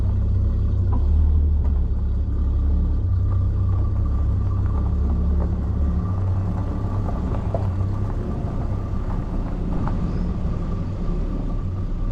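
A Ford Falcon XE S-Pack from a long-stored barn find runs while driving, a steady low engine drone and road rumble that stays fairly constant throughout, with no voices.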